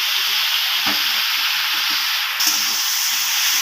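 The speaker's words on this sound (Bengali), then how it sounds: "এরপর আমার কেটে রাখা বেগুনগুলোকে দিয়ে দেব।" Loud, steady sizzling of a pan of spices frying in oil with a splash of water as cut eggplant pieces go in, a brief stir clatter and a sharper hiss surge partway through.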